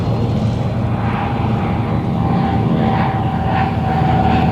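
Vultee BT-13 trainer aircraft flying at an airshow, its radial engine a steady, loud, rumbling drone that holds throughout without pause.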